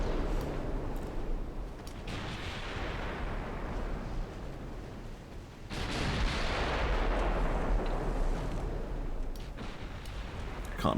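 Naval gunfire in World of Warships as the Oberon sinks the battleship Samoa: heavy booming salvos, one near the start and a louder one midway, followed by long rumbling decay and explosion noise, with no voices.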